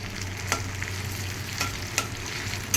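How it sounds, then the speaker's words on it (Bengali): Tomato and spices fry over medium-low flame in a pan, a continuous soft sizzle broken by several sharp spoon taps and stirring clicks, heard close with no talking. "টমেটোটা আমার ভাজা হয়ে গেছে"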